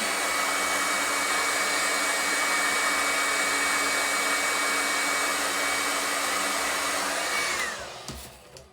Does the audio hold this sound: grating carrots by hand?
no